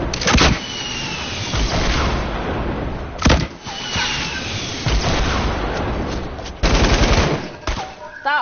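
Loud video game gunfire in rapid bursts, with sharp shots and automatic volleys coming in clusters and mixed with engine-like game noise.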